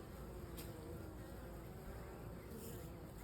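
Honeybees buzz in a steady, faint drone as a cluster flies in and out of a bucket swarm trap, with no voices over it.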